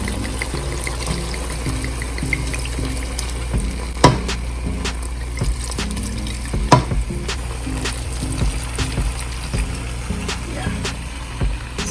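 Red wine poured into a pot of simmering beef stew, a soft continuous splashing and sizzling in the pot with a few clinks and knocks.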